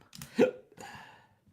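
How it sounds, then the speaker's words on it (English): A single loud hiccup from a person during a Lego Brickheadz build, followed by a softer breathy exhalation, close and alone without speech. "Oh my goodness, I got hiccups"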